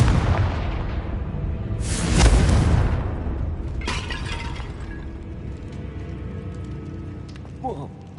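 Hogwarts Legacy's Confringo fire spell detonating, a sharp shattering blast about two seconds in that rings out and decays, followed by scattered crackles and debris, with a faint game backdrop.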